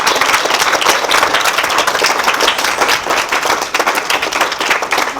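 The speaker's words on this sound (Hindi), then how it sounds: "एक बार जोरदार तालियां।" Loud, dense applause from a large crowd at a village gathering in Haryana, India fills the space, a steady roar of many hands clapping together without pause.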